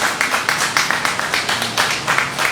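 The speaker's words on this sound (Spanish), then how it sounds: "démosle un aplauso al Señor, mis hermanos" A church congregation claps in steady rhythmic unison, loud and close, with a faint sustained voice or tone in the background toward the end.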